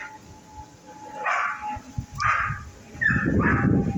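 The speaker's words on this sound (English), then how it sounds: "I always go to barking" A dog barks in several short bursts spaced over a few seconds, moderately close, with a low background rumble.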